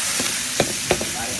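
An onion omelette fries in a pan with a bright, constant sizzle, broken by two or three brief scraping taps of a utensil.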